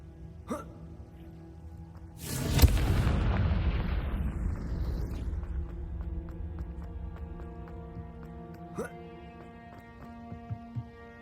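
In Hogwarts Legacy, a Confringo blasting spell erupts in one sharp, heavy blast after a short lead-in, then a broad roar and rumble that dies away over a few seconds, with faint game tones and small pops around it.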